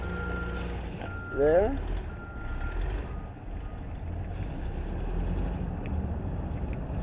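Reversing beeps from a new Caterpillar mini excavator sound outdoors at a moderate distance as a short run of repeated tones over steady engine rumble, with a voice speaking briefly.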